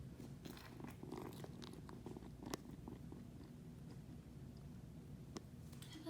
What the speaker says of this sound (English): Ooh, the black kitty's a purr.